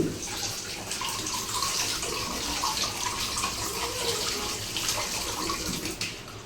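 Tap water runs steadily into a kitchen sink while dishes and utensils are washed by hand, a continuous close splashing flow with small clinks and no talking.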